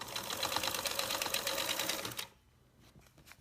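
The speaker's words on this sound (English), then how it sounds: "I'm going to stitch right on the edge because all we're doing is basting these in place." A sewing machine basting close along a fabric edge runs loud and steady with a fast even needle chatter for about two seconds, then stops, leaving quiet handling noise.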